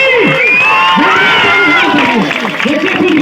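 A crowd at an outdoor gas cylinder fire safety demonstration bursts into loud applause and cheering, with shouting voices and lively talk mixed into the clapping throughout.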